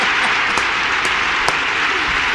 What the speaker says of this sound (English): we're going to just take time out to give you a nice big round of applause